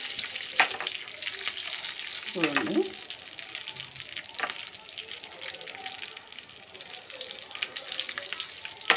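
Spices for tempering crackle and sizzle in hot oil in a pan with a handle, a steady close hiss with a few sharper pops, while a voice speaks briefly.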